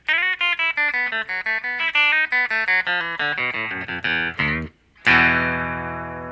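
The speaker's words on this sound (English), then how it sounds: "let's demonstrate the solo for you real quick" Electric guitar solo in an alternate tuning, a rapid run of distorted, sustained single notes played in quick succession, then a brief gap and a final ringing chord, loud and alone.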